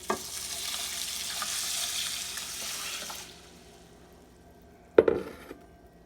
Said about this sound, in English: And then I'll take my distilled water,